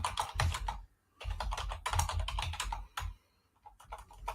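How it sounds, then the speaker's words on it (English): Rapid typing on an old-school computer keyboard with thick keys, a close, clattering run of keystrokes in bursts with brief pauses between them. "One of those old school keyboards, huh?"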